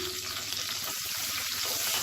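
Garlic and chopped shallots sauté in hot oil, giving a close, continuous crackling sizzle with faint stirring, heard alone without speech.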